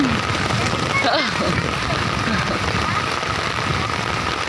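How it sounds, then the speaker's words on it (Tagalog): Steady rain falling in the mountains, a dense continuous hiss of drops on surfaces filling the whole stretch, with a brief voice and a faint chirp breaking through near the start. "It's raining. In the mountains."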